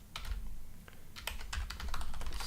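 Rapid, uneven clicks of keys being typed on a computer keyboard, close and crisp, in quick bursts with no voices.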